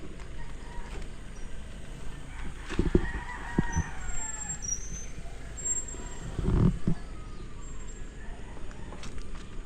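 Backyard chickens cluck and a rooster crows at a moderate distance over a steady outdoor background, with a couple of brief louder bursts that may be wing flaps.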